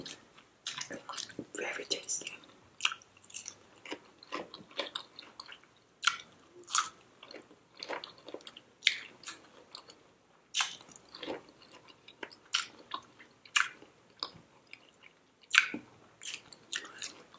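Crunchy relish-style pickles being bitten and chewed up close, with repeated crisp wet crunches and squishy mastication sounds coming in quick irregular bursts, quiet and intimate between bites.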